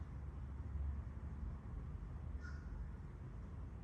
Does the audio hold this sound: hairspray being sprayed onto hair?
no